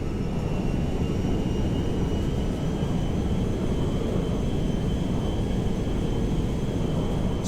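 A Grand Theft Auto V cargo jet flies with a constant loud low engine roar and faint high whine, unbroken throughout and with no voices.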